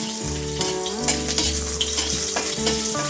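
Nigella seeds and green chili sizzle steadily in hot oil as a tempering for a vegetarian greens dish, with a few stirring clinks and a sustained tonal hum running underneath.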